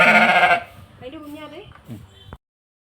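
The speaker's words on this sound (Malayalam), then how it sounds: "ചെമ്മരിയാട്" A sheep gives one loud, close bleat, then a person talks briefly.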